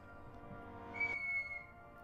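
A person whistles one short, clear, high note that holds steadily for about half a second, fairly close, over a low background hum.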